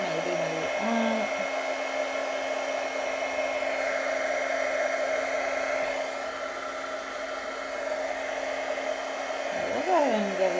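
A heat gun blows hot air to dry paint on ornaments, a steady loud whirring hiss that holds unbroken, with a brief shift in pitch near the end.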